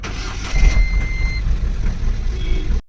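A goods vehicle engine starts and runs at a loud, low rumble close by, while a steady high reversing beep sounds repeatedly over it before cutting off.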